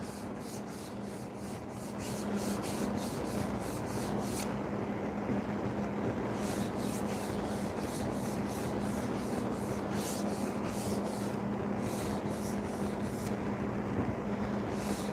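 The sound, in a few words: hand sanding a wooden cutting board edge with 150 grit sandpaper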